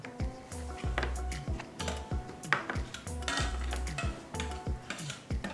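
Condensed milk semiya payasam stirred in a pot, with close, rhythmic taps and clinks of a spoon against the metal vessel repeating at a steady pace.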